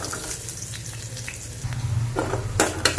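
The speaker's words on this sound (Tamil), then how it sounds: "பூண்டு நல்லா வதங்கணும்." Garlic sautés in a pan for a home-style kuzhambu, a continuous close sizzling hiss with a few louder bursts of crackle toward the end, no voices over it.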